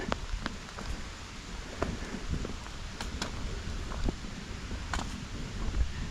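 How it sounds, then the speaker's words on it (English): Light rain patters faintly on a rocky Appalachian Trail path, with soft scattered drops and crackles over a constant hiss of wind and drizzle. "It's starting to rain a bit, so they're really slippery."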